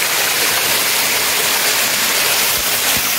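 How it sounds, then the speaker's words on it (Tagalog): A tall waterfall roars up close, a loud, unbroken wash of falling water with no pauses and no voices. "Napakataas dito. Falls pala ito."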